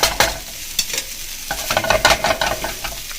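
Vegetable lo mein noodles are tossed with tongs in a hot wok, giving a continuous sizzle and frying hiss broken by frequent scraping, clattering stirs up close.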